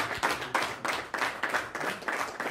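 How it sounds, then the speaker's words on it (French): A small group of shepherds claps in a loose, uneven rhythm, several short bursts of hand claps rising and falling over a couple of seconds, moderately close, with no talk over it. "C'est les bergers qui ont applaudi cette bonne nouvelle"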